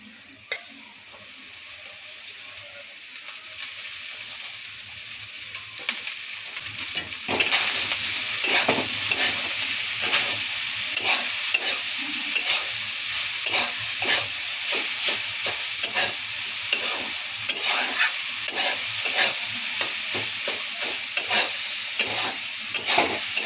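Rice tossed and stirred in a pan with fried onion and garlic for bhat bhaja, a steady loud sizzle after a quiet start, with repeated scraping strokes of the spoon through the frying rice.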